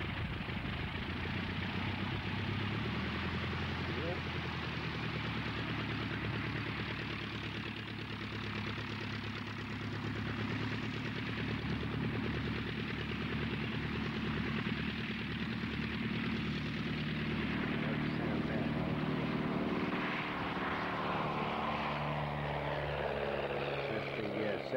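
Light Auster aircraft engine droning steadily at an agricultural aviation reunion, a continuous mid-pitched propeller hum held throughout at moderate distance, with commentary voices talking over it.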